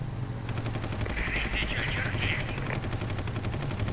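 Machine gun fire in the vehicle combat game Ex Machina, a sustained rattling burst lasting a couple of seconds over a steady low engine drone, with someone talking throughout.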